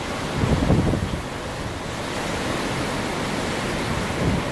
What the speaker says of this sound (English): we're even getting waves on the retention pond over there